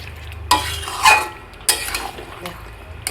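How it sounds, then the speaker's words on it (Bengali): Mutton masala and potatoes being stirred in a pan, with scraping strokes at intervals over a low sizzle, close by. "আলুগুলো দিয়ে একটু নাড়াচাড়া করে নেব"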